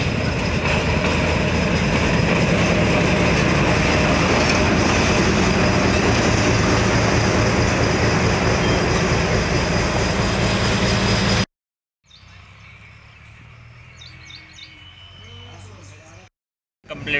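A PJ railway diesel-engine train runs past loudly and continuously with rumbling wheels, clanking and some squealing, then cuts abruptly to a quieter stretch with faint distant sounds before another brief cut.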